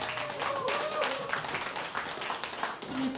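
Classmates at a 30-year reunion applaud together, a steady round of clapping from a room of people that carries on for a few seconds, with voices mixed in.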